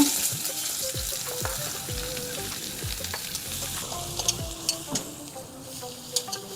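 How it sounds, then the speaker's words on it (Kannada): Chopped onion hitting hot oil in a pan for chicken sukka, a continuous close sizzle with scattered crackles and a few stirring scrapes, steady throughout. "ಎಣ್ಣೆ ಬಿಸಿಯಾಗಿದೆ. ಇವಾಗ ಒಂದು ಹೆಚ್ಚಿಟ್ಟುಕೊಂಡ ಈರುಳ್ಳಿ ಹಾಕ್ತಾ ಇದ್ದೇನೆ."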